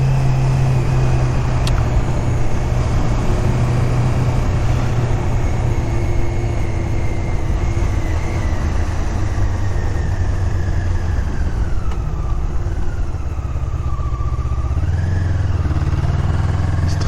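Honda CB500 motorcycle riding along a road, a steady loud engine drone with wind rush throughout, pitch shifting slightly as it changes speed, heard from on board with no voices.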